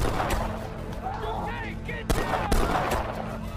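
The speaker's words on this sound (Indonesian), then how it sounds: "Polisi terpaksa menembak balik John hingga tewas." Police gunshots in a film scene, two sharp blasts in quick succession amid tense background sound.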